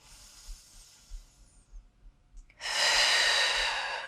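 Slow, deep breathing during a core-strength stretch, with a soft inhale followed by a long, forceful, airy exhale close to the microphone.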